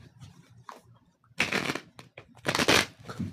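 Quick riffling bursts of cards being shuffled, two main flurries with softer shuffling and handling noises between them, close up and without talk.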